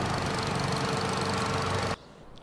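A tractor engine running in Farming Simulator 25, a loud steady chugging drone that cuts off abruptly near the end, leaving near silence, with no talking.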